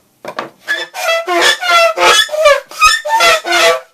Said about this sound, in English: I know I'm sanding. And it tends to get quite loud, as you can hear.